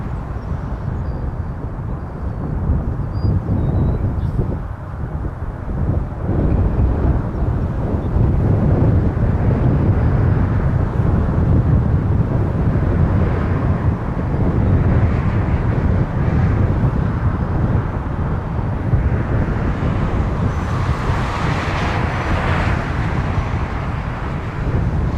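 A WestJet airliner taking off from runway 24 right at Toronto Pearson, a loud sustained jet roar blended with wind buffeting, swelling gradually and staying strong throughout, with no talking.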